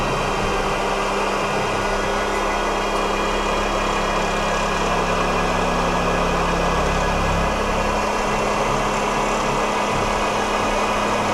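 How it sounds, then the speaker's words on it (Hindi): An animal-power gear and pulley belt mechanism spinning freely at speed with no load, a loud, steady mechanical drone and whir with constant vibration throughout, close up and without any talk. "ये खाली गियर चल रहा है, लेकिन लोड पे ये पुली बेल्ट जो है स्लिप होना शुरू हो जाता है।"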